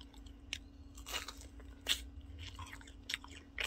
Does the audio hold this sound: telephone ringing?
no